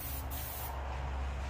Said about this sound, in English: pump it a couple times like that, and I'm spraying